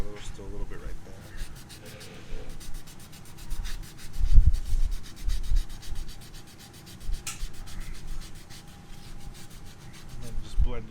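Close, rhythmic rasping of 150-grit sandpaper rubbed back and forth across wood, many quick strokes in a steady scratchy pattern.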